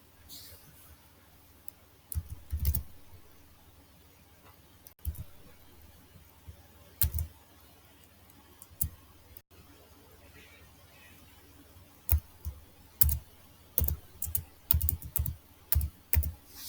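Someone types on a computer keyboard in quiet, scattered bursts of soft key clicks that cluster into a faster run toward the end, with faint background murmur.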